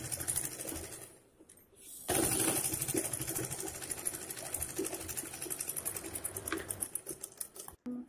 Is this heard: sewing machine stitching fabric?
yes